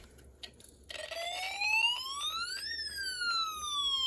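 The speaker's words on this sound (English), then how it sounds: "when I tilt the circuit away from me and a little bit to the right, a siren sounds" A close electronic siren tone from a toy snap-circuit kit, triggered by a tilt sensor, silent at first and then starting abruptly, sweeping steadily upward in pitch before falling back, thin and synthetic.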